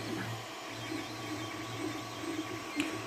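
An Ender 3 3D printer heating up with its cooling fan at full speed gives a steady mechanical whir and low hum that stays constant and close throughout.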